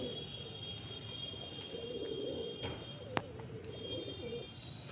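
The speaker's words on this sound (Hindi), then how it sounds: "ये बैठा है कबूतर, मुझे पता नहीं चला कब मैं आकर बैठा।" A dirty-looking male pigeon perched on a rooftop coos in low, soft, continuing phrases over a faint steady background, with a brief sharp click near the end.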